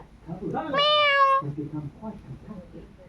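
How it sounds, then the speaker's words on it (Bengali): A cat gives one clear, drawn-out meow close by, and a person speaks softly to it before and after. "দেখো কি সুন্দর একটা বিড়াল"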